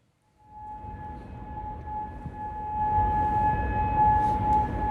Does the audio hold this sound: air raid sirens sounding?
yes